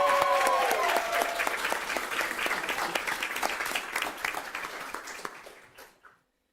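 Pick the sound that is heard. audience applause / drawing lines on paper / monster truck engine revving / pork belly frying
audience applause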